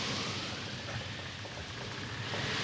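A heavy storm with rain pounding steadily amid a wide roar of wind or surf, continuous and dense across the whole stretch, with no voices.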